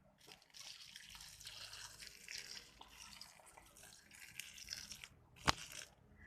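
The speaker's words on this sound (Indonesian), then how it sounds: "air hangat untuk jantung pisang ini agar teksturnya menjadi lebih empuk untuk nantinya." Warm water pours and trickles over banana blossom in a bowl to soak it, a steady close splashing with a brief sharp clink near the end and no talk.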